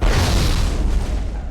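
A grenade explodes in Mass Effect, a loud, close boom that rumbles and slowly fades away.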